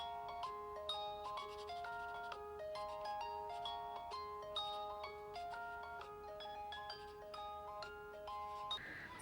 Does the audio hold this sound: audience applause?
no